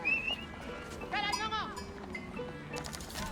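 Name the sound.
cattle ranch livestock sounds in video game Age of Empires IV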